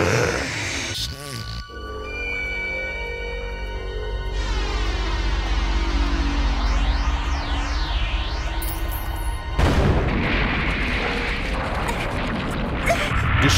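An anime sound cannon firing a destructive pulse of air waves: a sustained, loud warbling blast with sweeping, oscillating tones over a deep rumble, ending in a burst of crashing noise.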